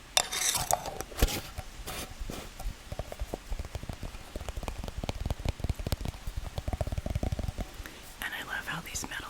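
Steady rain patters outdoors throughout, with a dense crackle of drops, while a soft whispering voice comes through at the start and metal lids and tins clink and tap now and then.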